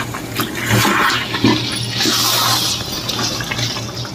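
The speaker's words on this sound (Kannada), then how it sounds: "ಚಿಕ್ಕ ಕಪ್ಪು ನೀರು ಹಾಕೊಳ್ಳಿ." A small cup of water is poured into a pot of chicken curry made with fenugreek and curd, giving a gushing, splashing pour with a brief burst, fairly loud and close, without speech.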